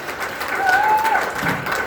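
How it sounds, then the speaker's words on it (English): Applause from a comedy club audience fills the room, steady and moderately loud, with a few whoops rising above the clapping. "Give it up for Mr. Lance Welch, everybody."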